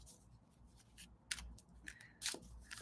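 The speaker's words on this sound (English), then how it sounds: "I'll wait for some comments as I shuffle my cards." A deck of cards shuffled by hand, giving faint, short riffling bursts at uneven intervals in a quiet room.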